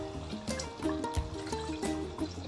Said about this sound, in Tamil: இப்போது தண்ணி ஊற்றுறேன்,